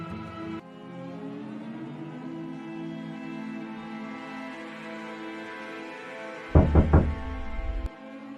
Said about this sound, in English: If you ever hear that knock, don't open the door